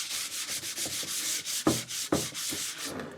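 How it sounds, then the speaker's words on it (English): Sandpaper rubs back and forth across the wood of a garden nesting box in quick, regular strokes, close and clear, with a couple of sharper scrapes midway. "And now a bit of sanding"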